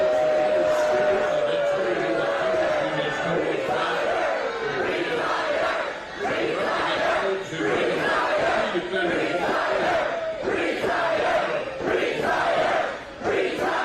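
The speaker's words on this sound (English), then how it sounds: "They're chanting retire, and he's just talking through it." Large outdoor political crowd at the Fancy Farm picnic in Kentucky chanting "retire" at a senator, a dense, steady roar of many voices with rhythmic swells throughout, while an amplified speaker keeps talking underneath.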